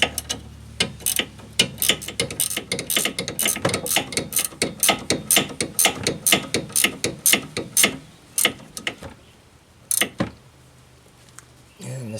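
Ratcheting wrench snugging a front sway bar link bolt on a 2008-13 Chevrolet Malibu, a close, rapid series of sharp clicking strokes in quick bursts, pausing near the end, with someone speaking at times.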